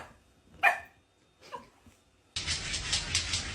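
A dog gives two short, sharp yipping barks about a second apart, close and fairly clear, before a sudden loud, continuous rushing noise takes over.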